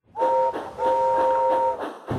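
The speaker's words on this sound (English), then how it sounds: "Presently, he heard a whistle." A steam train whistle sounds in two long, steady, close and loud blasts with a short break between, ending in a brief puff.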